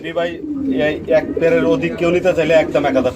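Racer pigeons cooing at a pigeon farm, several birds with repeated throaty coos close by, mixed with people talking over them.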